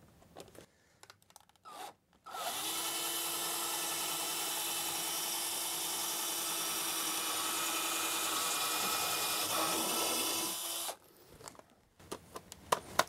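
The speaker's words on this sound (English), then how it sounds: "So I'm going to go ahead and start by drilling a hole through here." A power drill runs steadily for about nine seconds, a loud continuous whine biting through wood fascia, with faint handling clicks before and after.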